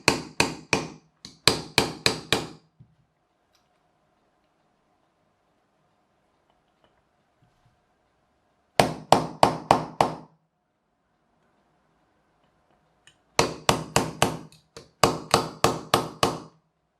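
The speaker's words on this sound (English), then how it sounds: "Yes, I could use a hammer." A hammer taps on a Pajero gearbox part in three bursts of quick, sharp metallic blows, loud and close, separated by long near-silent gaps.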